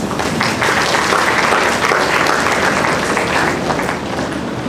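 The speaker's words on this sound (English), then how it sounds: "If that applause is not enough" Steady audience applause at a SIWES workshop, dense and even clapping from a crowd that continues throughout without pause.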